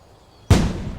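Silence broken by a single sudden deep boom of a cannon firing a baseball, loud and close, trailing into a rushing roar.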